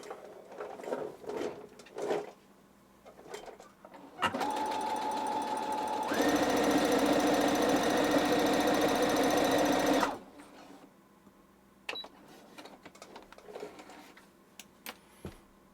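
A restored, once-neglected sewing machine runs smoothly for about six seconds. It starts at a lower speed, then picks up to a steadier, louder whir with fine rhythmic stitching before stopping. Light handling clicks and taps come before and after the run.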